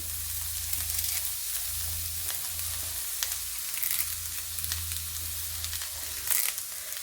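Curry leaves sizzle and crackle as they fry in a pan for an egg and carrot lunch-box dish, a steady close hiss with scattered sharper pops and no voices.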